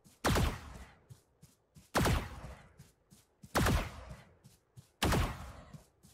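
Four sharp, loud bursts of gunfire from Valorant rifles fired while the player walks, evenly spaced about every one and a half seconds, each with a brief decaying tail and faint clicks between.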